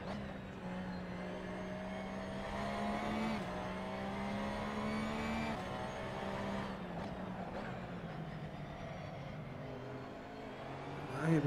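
Race car engine in Assetto Corsa on PS4 at Imola, a steady droning whine that climbs gently in pitch, drops at gear changes and climbs again, loud and continuous, with no talking during the run.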